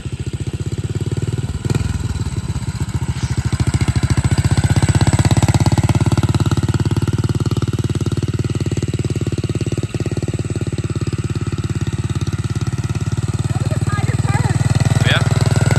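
A vintage Honda XL250 dual-sport motorcycle engine idles steadily and close by, a continuous low, even chugging that holds through the clip, with faint background noises.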